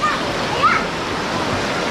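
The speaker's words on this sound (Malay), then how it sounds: "Air dia laju betul" A fast-flowing river rushes steadily in a broad, even roar, its current strong after upstream rain, with brief voice fragments barely rising above the water.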